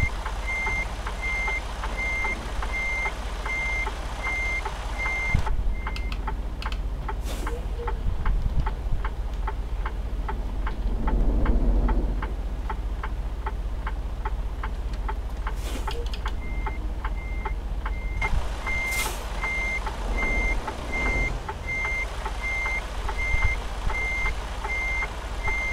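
A truck's reversing alarm in American Truck Simulator, pulsing in a steady series of evenly spaced high beeps. The beeps pause briefly in the middle before resuming, over a low engine rumble and occasional ticking.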